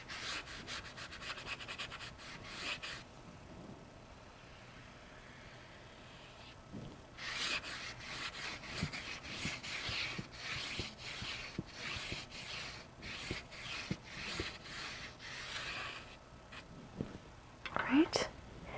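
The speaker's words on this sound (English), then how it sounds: "I'm just wiping, not wiping, I'm cleaning off my brush" A watercolor paint brush is wiped and cleaned against a cloth or paper, producing soft, close rubbing strokes in bursts with quiet gaps, while a person speaks softly between them.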